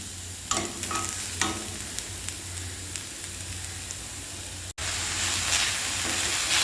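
Carrots stir-fried with sautéed onions in a pan for a carrot and moringa leaf thoran sizzle steadily, with several sharp stirring scrapes early on and a brief break before a louder, hissier fry.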